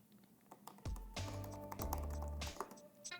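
Fingers type on the keyboard of a new 2016 MacBook with Touch Bar. A quick, close run of crisp keystrokes clicks out alone for a few seconds.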